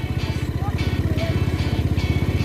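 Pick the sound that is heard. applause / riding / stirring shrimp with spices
riding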